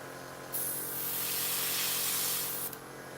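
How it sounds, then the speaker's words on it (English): Car primer sprayed from an aerosol can onto scale model parts, a single steady hiss of about two seconds, close and clear with no talking. "I also have the car primer for the bigger parts. I usually use it from the spray can."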